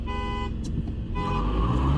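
Two diesel cars, a Skoda Superb TDI and an Audi Q3 TDI, idle and rev together at a drag race start, a steady engine drone with a rising surge near the end, heard from close by.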